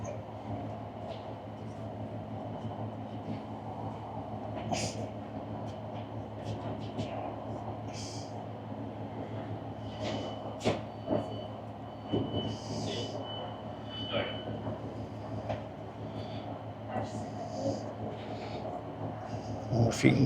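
A Northern passenger train pulling into Beverley station on the Bridlington line gives a steady low rumble of rolling stock throughout, with faint scattered clicks and squeaks above it and a slight swell near the end.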